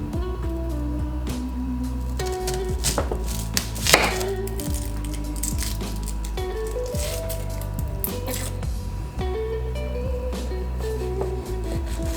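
An onion is chopped with a knife on a board while preparing beef shepherd's pie, giving rapid, fairly close, steady cuts and taps over a constant background of music.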